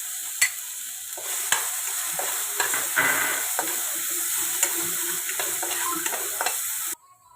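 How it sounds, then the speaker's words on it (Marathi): Ground green chili paste frying in oil with urad dal as it is stirred, a crisp hissing sizzle punctuated by sharp spoon clicks against the pan, close, cutting off abruptly at the end. "आता आपण वाटलेली मिरची त्याच्यात टाकणार आहोत।"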